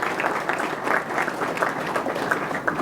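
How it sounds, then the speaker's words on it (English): A crowd at a sheriff's advisory council meeting claps, a moderate, steady applause of many hands heard at a little distance. "Yeah, you need to clap your hands for that."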